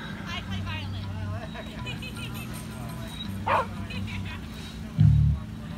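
A dog barks among a crowd at an outdoor art festival, a few short yips and woofs rising over steady babble and chatter, with one louder bark near the end.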